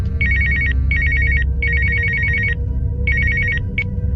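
A telephone rings loudly in quick trilling bursts, four long rings and a brief fifth chirp, over a low rumbling background.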